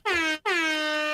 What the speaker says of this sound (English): hit me with them air horns